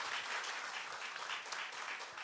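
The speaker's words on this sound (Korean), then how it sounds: "박수." A church congregation applauds steadily, a dense wash of clapping that stays fairly even and a little distant throughout.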